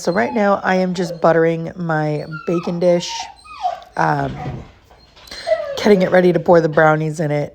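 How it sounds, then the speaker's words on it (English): A dog whimpers and cries impatiently in the background while waiting for its walk, with high, wavering whines repeating throughout as someone talks close by in a home kitchen. "Pardon my dog crying in the back."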